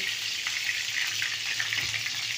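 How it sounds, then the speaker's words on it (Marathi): Curry leaves dropped into hot oil with cumin and mustard seeds, giving a steady close crackling sizzle with small pops throughout. "आणि आता इकडे तेलामध्ये कढीपत्ता टाकून घेतो"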